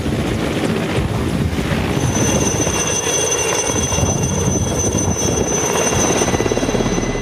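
Mi-series military helicopter of the Indian Air Force, a steady loud rotor and turbine drone with continuous low thudding and a high whine, sustained throughout without speech.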